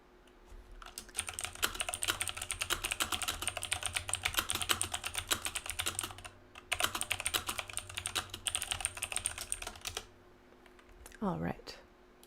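Rapid keystrokes on a computer keyboard while a message is typed, near and steady in two long bursts separated by a short pause, followed by a brief rising tone at the end; a faint low hum sits underneath.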